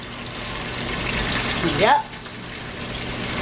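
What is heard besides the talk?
water poured into a jar to rinse it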